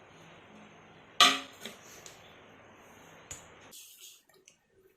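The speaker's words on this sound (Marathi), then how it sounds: "1 ते 2 पाण्याने आपण पुन्हा डाळ धुवून घेणार आहोत" Soaked lentils are rinsed in water in a home kitchen, heard as one sharp splash followed by a few softer sloshes and drips, then near silence.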